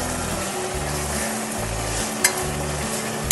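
Chopped tomatoes sizzle steadily in a hot pan while a spoon stirs them in repeated scraping strokes, close and alone, with a brief sharp clink near the end.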